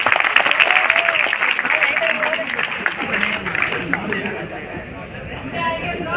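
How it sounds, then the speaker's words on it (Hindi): A crowd applauds steadily throughout, a dense wash of clapping that slowly fades, with a voice speaking over it. "एक बार इन दोनों के लिए जोरदार तालियां हो जाए।"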